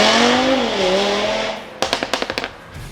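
Porsche GT3 pulling away from a standstill: a loud engine note climbs and dips, then fades, followed by a quick run of sharp popping bursts from the exhaust.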